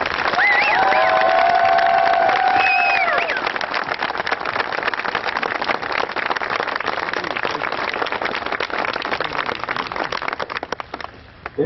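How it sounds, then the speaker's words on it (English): A crowd at an Army basic combat training graduation applauds and cheers its new soldiers, a loud, sustained roar of clapping with whoops and shouts at first, settling into steady applause and then tapering off. "Let's give these warriors a round of applause."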